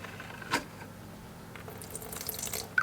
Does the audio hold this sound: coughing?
no